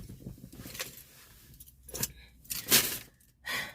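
A bunch of keys jangles close by in short metallic bursts. A few brighter clinks are spread over a few seconds, with quiet gaps between them.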